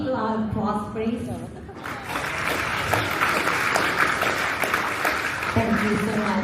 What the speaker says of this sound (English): May I hear a big loud applause, please?